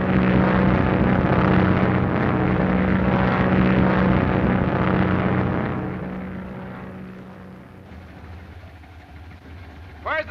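A 1930s propeller airplane drones loudly with a steady engine roar that gradually fades into the distance, leaving a quieter background.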